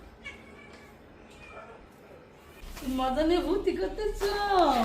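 A cat meows several times close by, with drawn-out rising and falling cries that grow louder toward the end. Faint household voices can be heard earlier.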